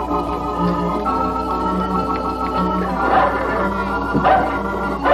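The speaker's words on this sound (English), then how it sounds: "Isn't that a big dog?" A dog barks and yips a few times amid a busy 1948 children's television studio, with steady background tones and voices around it; the barks are brief and partly buried in the surrounding sound.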